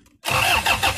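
A diesel car engine being cranked over after head gasket repair and timing belt installation, a sudden loud close churning burst that kicks in after a brief quiet moment.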